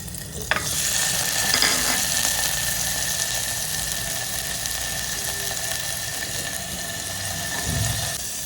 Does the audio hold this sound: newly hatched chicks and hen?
no